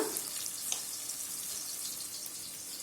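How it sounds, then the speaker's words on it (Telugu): Tomato pieces sizzle and fry steadily in a pan for a curry, a continuous close hiss with no talking. "టమోటా ముక్కలు కూడా మెత్తగయ్యేంత వరకు వేపుకుందామండి"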